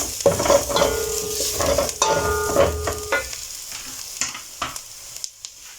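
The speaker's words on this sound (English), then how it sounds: "Lower your heat and then add in our white sauce kidogo." White sauce poured into a pan of pasta over lowered heat and stirred: a steady soft sizzle and frying hiss with scraping stir strokes and a few light utensil knocks, close and continuous.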